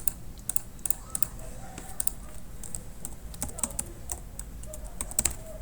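Quick, light keystrokes on a computer keyboard come in irregular bursts of close, crisp clicks against a quiet room.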